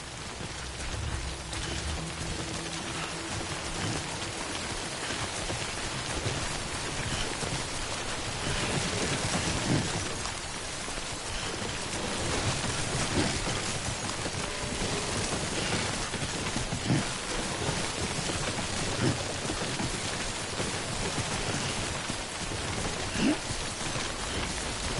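Steady rain pours in the video game Death Stranding, a dense, even hiss of falling water that continues unbroken and loud throughout, with no voices.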